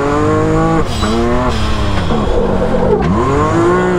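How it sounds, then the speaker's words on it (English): A car drifted with the handbrake, its engine revving up and down in sweeping pitch changes while tires squeal and skid, loud and close with no talking. "There's a whole lot of learning going on with this handbrake because I've never really drifted a vehicle with a handbrake"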